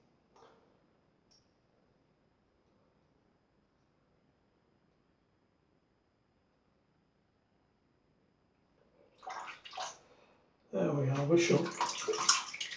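A vintage Gillette razor is rinsed under a running tap: after long near-silence and a brief murmured voice, water suddenly gushes loudly and steadily, splashing against the metal close by.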